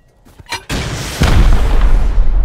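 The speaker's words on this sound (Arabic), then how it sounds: "يلا صاروخ صاروخ يا صاروخ" Rockets fired at a base in the survival video game Rust: a sharp launch crack, then a loud booming blast at about 1.2 seconds whose deep rumble keeps rolling to the end, with no talking.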